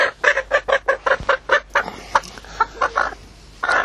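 Chickens and a rooster cluck close by in a quick, even run of loud, clipped calls, then a few scattered clucks after a short pause, with no talk.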